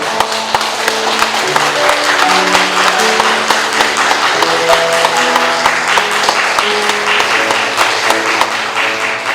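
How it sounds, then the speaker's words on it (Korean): A church congregation at an installation worship service claps warmly to welcome the pastor, steady dense applause lasting throughout while sustained organ or keyboard tones play underneath. "우리 한번 나오실 때 뜨거운 박수로 우리 목사님 맞이해 주셨으면 좋겠습니다"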